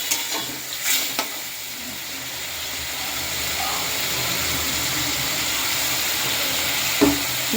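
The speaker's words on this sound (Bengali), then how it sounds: "এইবার আমি মোচাটা দিয়ে দেবো, কষাবো।" Pre-boiled chopped banana flower fries in hot oil with a steady close hiss, broken by a few louder scraping stirs near the start and a sharp clatter of the spatula toward the end.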